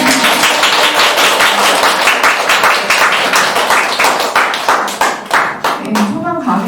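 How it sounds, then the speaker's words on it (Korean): Sustained audience applause after a climate crisis lecture, dense clapping filling the room at steady loudness, fading slightly near the end as a voice begins to speak. "다시 한번 큰 박수 부탁드립니다."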